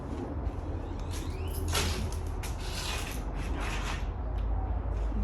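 A sliding glass door leading out to a hot tub rumbles and creaks open along its track, a close, continuous mechanical scrape over a room-noise background.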